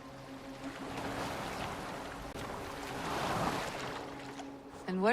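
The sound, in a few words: boat on water in video game Assassin's Creed Valhalla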